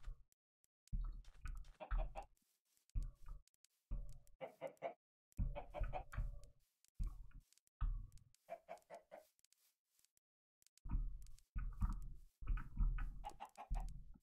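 Chickens cluck in Minecraft, short bursts of fowl calls that come and go in separate clusters with silent gaps between them, moderately close.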